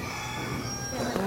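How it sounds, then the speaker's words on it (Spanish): A rooster crows during a Spanish-language church gathering. The call rises near the end of the clip over a steady background murmur, fairly faint and a little distant. "oye ese gallo"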